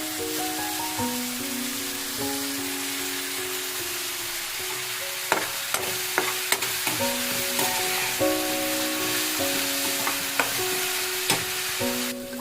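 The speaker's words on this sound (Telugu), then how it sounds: "ఇప్పుడైతే ఇందులో ఉల్లిపాయలు వేసేస్తున్నాను." Chopped onions frying in a pan for a dried fenugreek and raw mango curry, a steady soft sizzle with occasional stirring clicks, while melodic background music plays over it throughout.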